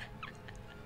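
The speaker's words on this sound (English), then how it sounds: "Let's kill that giant rooster dragon thing." A giant rooster-dragon creature in the video game Tales of Vesperia gives a quick, faint burst of clucking, heard alone and lasting under a second.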